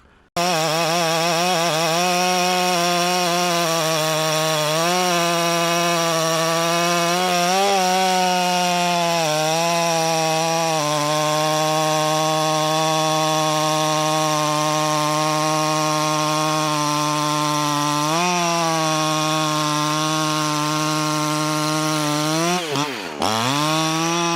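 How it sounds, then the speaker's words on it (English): A Husqvarna 61 chainsaw with a 28-inch bar runs loud and close while cutting big hardwood, a sustained high engine drone that sags and recovers under load, ending with a sharp drop as it bogs down and revs back up. "I'll put a clip in here of this thing pulling a 28 in some pretty good sized hardwood"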